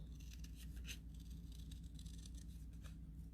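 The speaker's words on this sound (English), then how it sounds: "I'm going to go ahead and take and hand cut this as well" Scissors hand-cutting a paper card piece for a Stampin' Up Seaside Notions card, faint repeated snips and rustling close by over low background hum, with nobody talking.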